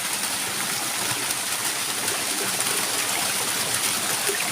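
Stream water flowing near a waterfall at Ban Na Ang in hilly country after rain, a continuous broad rushing that stays loud and even throughout.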